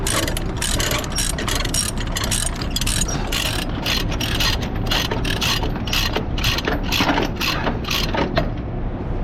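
A ratchet clicks steadily and continuously, loosening bolts on a job with a 75-ton rotator tow truck, close and loud over a low engine idle.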